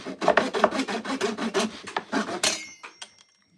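A Bosch corded sander trims down a wooden dowel with a close, gritty rasping buzz that pulses quickly for about two and a half seconds, then breaks into a few short scrapes before stopping.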